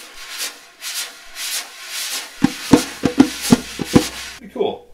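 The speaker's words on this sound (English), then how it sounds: "You can get some of that cool brush sound effect with it." Soft brushing swishes on a djembe skin, followed by a run of sharper scraping strokes in a quick rhythm, close and fairly quiet.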